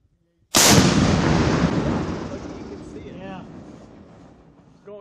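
An M3E1 MAAWS recoilless rifle fires a single loud, sharp blast during military training, followed by a long rumbling decay that slowly fades over several seconds in open air.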